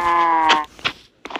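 A Minecraft cow gives a single loud, close moo with a clear tonal low call, followed by a couple of short soft game sounds and footsteps.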